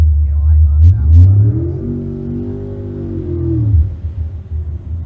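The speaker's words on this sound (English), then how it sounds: "He'll put it in with Mike Mead, completing his burnout." A naturally aspirated S550 Ford Mustang drag car, with no nitrous, turbo or supercharger, does a burnout at State Capitol Raceway. The engine holds a loud, close, sustained high rev for a couple of seconds, then falls away into rumbling.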